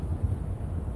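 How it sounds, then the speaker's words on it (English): Strong wind at an ice fishing spot during a wind advisory, a continuous low rumble buffeting the microphone with no other sounds. "As you may or may not be able to tell, it's kind of windy out."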